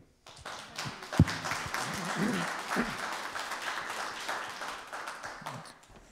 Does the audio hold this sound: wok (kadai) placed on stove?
no